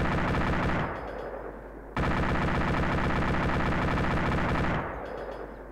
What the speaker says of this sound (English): Putting a lot of rounds in there.